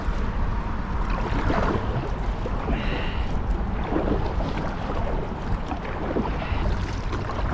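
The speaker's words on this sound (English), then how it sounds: "Here's the last rapids." A punt moving through the last stretch of river rapids, with steady rushing water and broadband wash, some wind buffeting, and faint knocks and splashes from the boat, no voices.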